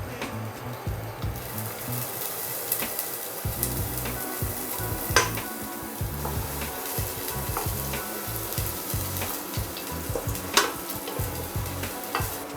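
Chopped onion sizzles steadily in three to four tablespoons of hot oil, a dense continuous crackle with occasional louder spatters and scraping stirs, close by and with no talking, while ghugni is prepared.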